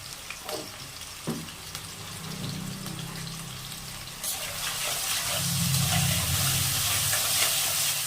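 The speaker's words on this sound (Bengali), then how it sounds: "আলু ভাজা হয়ে গেছে" Potatoes fry in hot oil in a pan with salt and turmeric added, giving a steady soft sizzle that swells louder toward the end, with a few faint knocks and clinks alongside.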